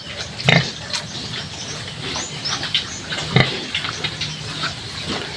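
A mother pig grunts in short low bursts, with two stronger grunts standing out over a steady rustling, wet background close by.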